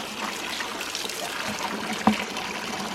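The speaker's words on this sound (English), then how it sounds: "I've just got a drain plug open down here, letting all of that out." Water drains from an open drain plug on a ram pump pipe into a bucket, a steady close trickling splash with one brief louder knock partway through.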